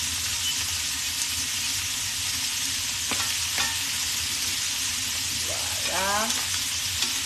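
Pieces of beef cheek browning in a hot pan give a steady, fairly loud sizzle throughout, with a few sharp clinks and a brief scrape of a utensil near the end; one short spoken word.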